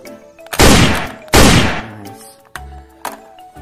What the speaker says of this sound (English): Blaster gun.